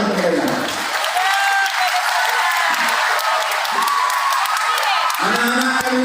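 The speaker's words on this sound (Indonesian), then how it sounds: "Saya minta tolong kasih tepuk tangan untuk mereka." Audience applause at a large parenting seminar, a dense, sustained wave of clapping with some cheering and whoops, filling the hall from start to finish while a voice speaks over it at the beginning and end.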